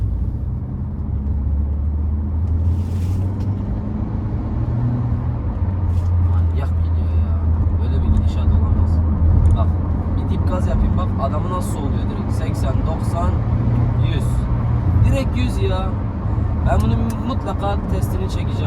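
Renault Captur four-wheel-drive car driving on a road, a steady low engine and road rumble throughout with someone talking over it from inside the cabin.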